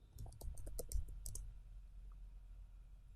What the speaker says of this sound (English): In your web address bar, type in test.php